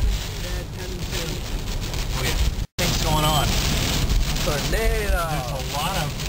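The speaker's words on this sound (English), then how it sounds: "There's a lot of really heavy rain all at once," Heavy rain pounds down with strong gusting tornado wind pushing a car, a dense, loud roar while people talk and exclaim over it; a brief dropout cuts the sound midway.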